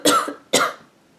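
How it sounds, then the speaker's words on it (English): Two harsh, separate coughs from a patient describing a month-long cough during a hospital health-history interview, close and fairly loud, each a short burst with a brief trailing rasp and a pause between them. "I've had this terrible cough for almost a month now"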